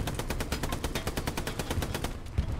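Tank coaxial machine gun in Hell Let Loose firing a sustained rapid burst of about a dozen evenly spaced loud shots, then cutting off near the end, with no talk over it.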